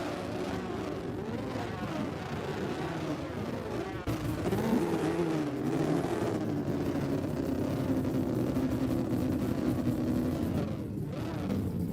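Race car engines at the start of a race in a packed field, a dense continuous roar of many motors with rising and falling revs, steady and loud throughout.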